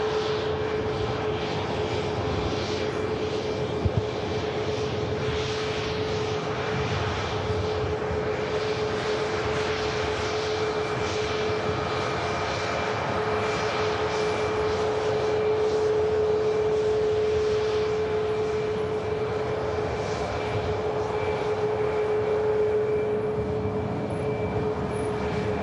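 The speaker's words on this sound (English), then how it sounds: "the MAX 8 of Sun Express aircraft heading to Antalya." SunExpress Boeing 737 MAX 8 jet taxiing at Manchester Airport, a steady, loud engine roar with a constant whine that holds throughout, no talking.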